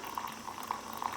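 Freshly boiled hot water poured into an AeroPress coffee maker, a soft continuous trickle with small bubbling gurgles, close and fairly quiet.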